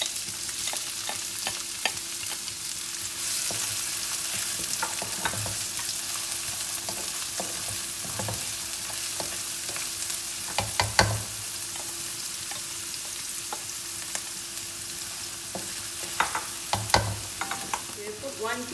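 Onions frying in hot oil for spaghetti carbonara, a continuous close sizzle with repeated clattering stirs and scrapes in the pan, no talking.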